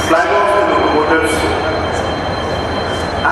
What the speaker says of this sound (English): flag off the locomotives